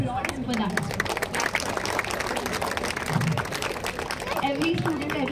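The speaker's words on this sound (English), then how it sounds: "I would really like everyone to applaud him for that." An audience applauds at a sports court gathering, a dense burst of many hands clapping that carries on steadily throughout, with voices heard through the clapping.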